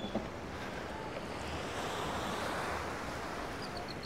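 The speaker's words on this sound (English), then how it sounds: "And where those waves are breaking right out there is the reef." Ocean waves break on a reef offshore from a small beach at Akumal, a day after a hurricane, making a steady, broad roar of surf with wind noise over the microphone and no voices.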